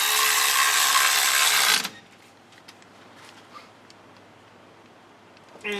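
Tightening the 13mm top bolt on a higher-amp alternator in a third-generation Camaro: a loud, close burst of rapid ratcheting for under two seconds, then near quiet with faint clicks, and a second burst starting at the end.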